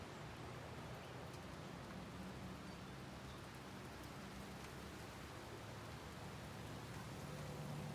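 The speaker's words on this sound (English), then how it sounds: "Raining now." Steady rain falls during a thunderstorm, a dense, even hiss with no breaks, heard from a garage and moderately quiet throughout. No voices or distinct thunder claps stand out.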